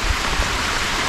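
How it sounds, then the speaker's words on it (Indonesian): Steady light rain falling outdoors beside a large river during a fishing trip, a continuous soft hiss of drops pattering on surfaces with no voices. "Dengan rintik."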